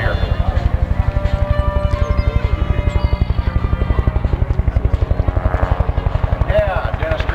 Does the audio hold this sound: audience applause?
no